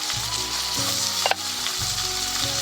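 Chopped tomato, slit green chillies and ginger-garlic paste hiss and sizzle steadily in hot oil in a frying pan for a chicken dish, with a brief stirring clatter midway; close and continuous, no talk.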